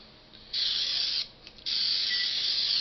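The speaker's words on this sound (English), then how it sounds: "I think I'll still give it a little spritz. This is my mister that has olive oil in it." Two bursts of fine olive oil mist hissing from a mister's spray nozzle, a short one then a longer one, close by with no talking.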